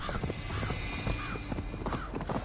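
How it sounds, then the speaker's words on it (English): Horse galloping fast uphill over snow and ice in the video game Assassin's Creed Valhalla, with steady rapid hoofbeats, an occasional whinny-like tone and a constant busy game ambience underneath, no talking. "That horse is going really fast uphill where there is snow and ice."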